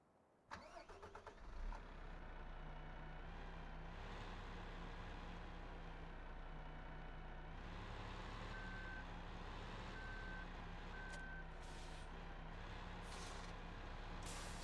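A MAN truck in Farming Simulator 15 cranks and starts its diesel engine, then settles into a steady idle while regular reversing beeps repeat for several seconds over the engine drone.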